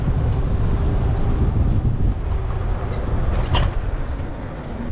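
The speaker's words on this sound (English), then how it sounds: "Windy and breezy out on the river." Wind buffets the microphone in a loud, continuous low rumble out on a river, with a brief higher whistle near the end; nobody speaks.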